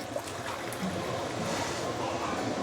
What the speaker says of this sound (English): Add in the hot water.